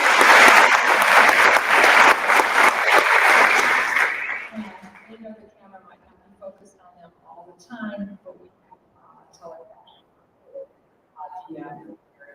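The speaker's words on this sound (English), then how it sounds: "So let's give them a round of applause." A town hall audience on Medicaid gives a loud round of applause for sign language interpreters, lasting about four seconds before fading into scattered chuckles and quiet murmuring voices.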